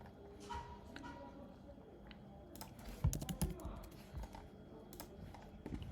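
Python code being typed on a computer keyboard, a quiet run of soft clicking keystrokes with a brief louder cluster of taps in the middle, under a faint room background with no talk.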